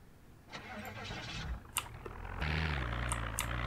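In the video game Project Zomboid, a car engine cranks and starts, settling into a low idle rumble, with a few sharp clicks of keyboard typing mixed in.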